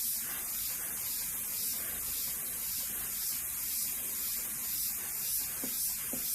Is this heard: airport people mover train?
no